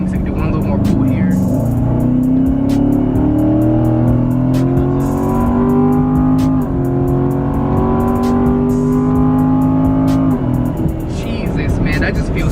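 A 2019 Chevrolet Corvette Grand Sport accelerates hard, its loud engine note climbing steadily through the gears with a brief dip at a shift, heard from inside the car as a continuous rising drone.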